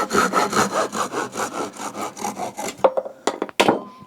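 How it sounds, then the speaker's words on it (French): A Wolfcraft Japanese pull saw cuts through wood in quick, even rasping strokes, about a dozen close rhythmic passes, then the sawing stops and a few scattered knocks and clatters follow. "C'est vraiment une scie que j'utilise très souvent, très régulièrement pour couper tout type de matériaux"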